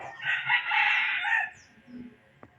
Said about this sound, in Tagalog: tingnan natin yung ating mga manok dito